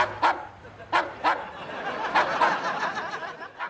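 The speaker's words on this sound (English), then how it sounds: "Is that a dog?" Dog barking inside a laboratory, several sharp barks in short bursts at close range with gaps between them, some quieter yips mixed in, and a faint background hum.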